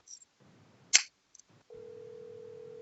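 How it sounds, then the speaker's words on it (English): Telephone line sounds while a radio show places a call: a few short beeps and a click, then a steady, faint ringing or line tone that continues to the end. "let's get Rodney on the phone here real quick and see if we can get him on"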